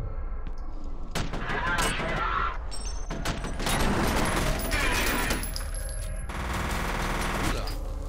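Heavy gunfire in the video game FEAR, including shotgun blasts, comes in loud bursts and booms amid the game's action, layered with impacts and debris.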